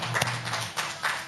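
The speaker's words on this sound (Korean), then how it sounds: "박수 치셔야죠" Congregation at a New Year's Eve church service clapping, a short burst of scattered hand claps in a reverberant hall, moderately loud, with a few sharper individual claps standing out.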